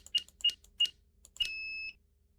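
Alarm in the video game Who Am I: three short, sharp electronic chirps evenly spaced, then a longer sustained two-tone beep, clean and isolated with no talk.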